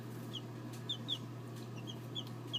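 Young Barred Rock and Black Sex Link chicks in an indoor box give a scatter of faint, high peeps and chirps over a low, steady background hum.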